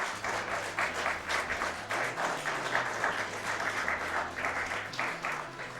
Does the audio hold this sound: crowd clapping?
yes